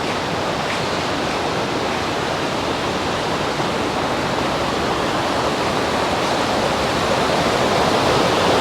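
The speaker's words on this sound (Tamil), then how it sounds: "தண்ணியில் சத்தத்தை பார்த்தீங்கன்னு சொன்னால் உங்களுக்கு விளங்கும் ஃபோல்ஸ்லேருந்து விழுந்து வர வேகம் வந்து அவ்வளோ பெருசாக தான் இருக்குது" Water rushes down from a falls in a continuous, heavy roar, a broad and constant wash of noise that stays loud and close throughout, with no voices heard.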